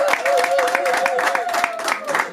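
Rhythmic group clapping at a dowry ceremony, a steady beat of hand claps close by with a sustained sung or hummed voice running underneath.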